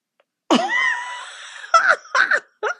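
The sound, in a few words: cat meowing angrily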